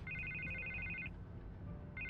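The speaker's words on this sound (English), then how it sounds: "I can't get the phone to stop ringing." A telephone rings in the video game Batman: The Telltale Series, with repeated electronic trilling bursts that run for about a second, pause, then start again over a low background rumble, with no talking.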